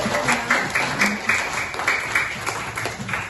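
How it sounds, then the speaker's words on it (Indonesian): A group claps in a classroom lesson, a short burst of steady, fairly loud applause with slightly uneven rhythm filling the whole moment without speech over it. "Oke, tepuk tangan dulu."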